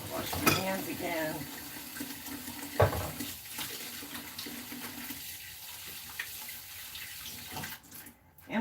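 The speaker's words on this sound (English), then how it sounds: "Wash my hands again." Hands are washed under a running kitchen tap in a kitchen partly under remodeling, a steady near rush of water for about five seconds before it stops, with someone talking over it.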